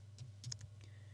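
A computer keyboard shortcut typed while editing in Final Cut Pro X, a few quick soft key clicks close by over low hum.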